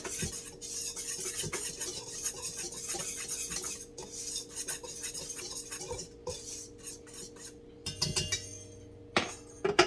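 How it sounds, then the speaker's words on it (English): Metal whisk clinking and scraping against a bowl while pastry dough ingredients for blueberry fried pies are mixed together, a steady close rhythm of quick taps and stirring with sharper clinks toward the end, no talking. "I'm gonna whisk this all together."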